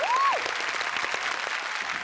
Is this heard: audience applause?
yes